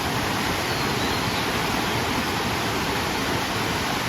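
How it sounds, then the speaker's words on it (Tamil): Water pouring through the Sholayar dam, a steady, dense roar of flowing water that stays constant throughout with no speech. "இதில் தண்ணி போயிட்டுருக்கு பாருங்க."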